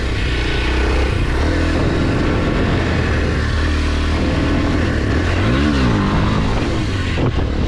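A Kawasaki KLX230 dirt bike engine revs hard, a loud, close, continuous roar rising and falling in pitch as the throttle opens, with no voices over it.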